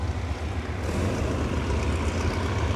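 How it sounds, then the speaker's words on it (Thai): A loud, steady rumble of GEK and Hitachi diesel locomotive engines revving up together in Thailand, with a deep throbbing low end and a broad roar. "นี่ฮะเสียงเร่ง เครื่องระหว่างปู่ GEK กับ ฮิตาชินะครับ"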